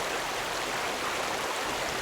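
A flowing stream in a cartoon story rushes steadily with a continuous, even wash of water, close and unbroken.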